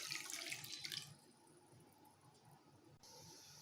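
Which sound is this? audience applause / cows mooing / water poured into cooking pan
water poured into cooking pan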